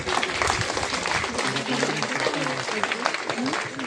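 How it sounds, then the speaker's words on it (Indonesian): An audience at a Monday flag ceremony at a state senior high school in Sikka, East Nusa Tenggara, claps and cheers, a broad crowd applause with voices mixed in and some people talking under it. "Boleh tepuk tangan, boleh."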